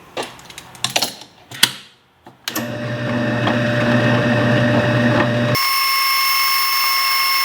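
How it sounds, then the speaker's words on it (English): Metal is drilled and tapped for a garage-built oil can holder: a few sharp taps and clunks come first, then a steady, loud, close power-tool whine that shifts abruptly to a higher, steady tone. "we'll drill and tap this one out"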